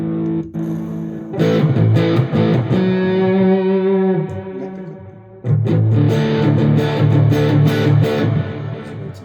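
An EVH 5150 Series QM electric guitar plays sustained chords with crunchy distortion and heavy effects, ringing out, pausing briefly, then strumming again.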